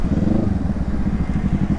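A Kawasaki Z650 motorcycle engine with an open muffler and deleted catalytic converter rumbles steadily and loudly, a rough low throb running throughout with no talking.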